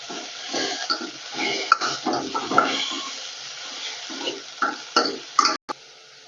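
Mint, coriander and ginger sizzle softly in a pan, with irregular spoon scrapes and stirring knocks close by, a few louder clinks of utensil against metal near the end.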